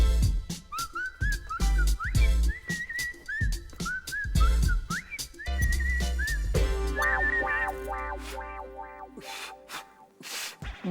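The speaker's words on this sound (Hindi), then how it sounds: "बड़ी अच्छी सीटी बजाता है तू।" A person whistles a lively melody of rising and falling phrases, the notes loud and close, with a brief change to a steadier repeated pattern near the end; no talking.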